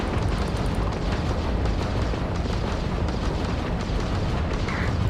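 Spaceship combat in the Starfield video game: a dense, continuous roar of explosions and weapon blasts fills the whole stretch at steady loudness, with no talk.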